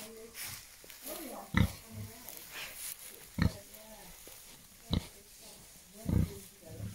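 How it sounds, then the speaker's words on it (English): A pig grunts and snorts in short bursts, four or five loud, deep snorts spaced a second or two apart, with people talking softly in between. "Yeah, pig, pig."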